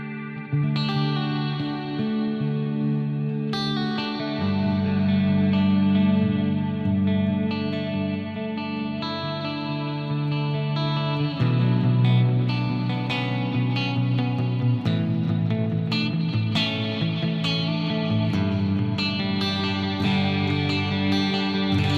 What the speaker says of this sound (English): nice big ambient reverb and delay and shimmer